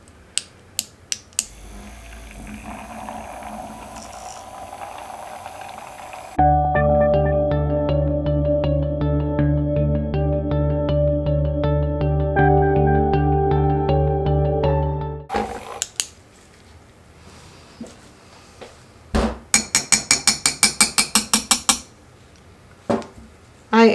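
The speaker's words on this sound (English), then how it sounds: "I wanted to show you guys how to do it with a mini whisker." Battery mini whisker mixing a cashmere face mask formula gives a steady, close, buzzing motor whir that holds for about nine seconds, with clicks and clinks of handling before and after.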